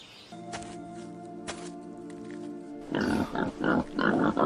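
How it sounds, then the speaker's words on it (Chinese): Wild boar grunting inside a cave, a burst of harsh, rapid grunts and squeals starting partway through, loud and close, after a quieter stretch of steady hum. "这山洞里有野猪。"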